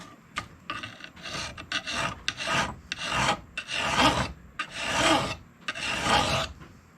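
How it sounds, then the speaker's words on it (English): A hard abrasive rasp repeats in long strokes, roughly one per second, close and loud, as a restored meat cleaver or hatchet blade is buffed back and forth. "I'm actually going to buff it."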